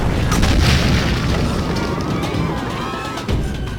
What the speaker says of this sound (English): 69 cannons.